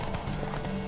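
Horse hooves clip-clopping in The Witcher 3, a quick, steady run of close hoofbeats over a short moment, with a faint hint of a whinny behind them.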